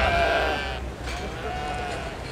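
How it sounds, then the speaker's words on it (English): A sheep bleats once at the Minnesota State Fair, close and wavering, then fades into quiet background noise. "You feed the sheep some of your corn, pet the sheep"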